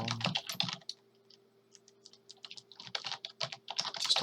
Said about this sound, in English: Just typing right now.